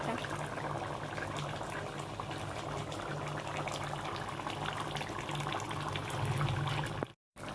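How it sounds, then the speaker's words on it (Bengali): Crab curry bubbles in a pot in a soft, continuous simmer, fairly faint and even. A brief silence cuts in near the end. "এই যে তরকারিটা ফুটছে এখন হয়ে গেছে"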